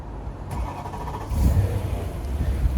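A BMW M3 cranks and fires up, then settles into a loud, close idle with a brief rise in revs.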